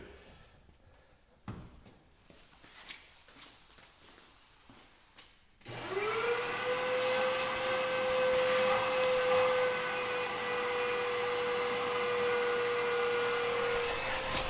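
Quiet shuffling and a few knocks, then a vacuum cleaner switches on inside a car and runs loud and steady, its motor whining at a constant pitch.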